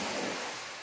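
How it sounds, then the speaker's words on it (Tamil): A sea wave breaks on the shore as a broad, loud hiss of surf that slowly fades as the water washes back. "இதுதான் நம்ம கடல் அலையோட எஃபெக்ட்."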